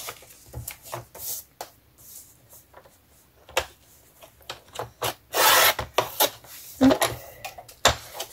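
An old paper planner is cut through with a blade in a series of short, close rasping strokes separated by brief pauses, with one longer scraping pass near the middle and no talking.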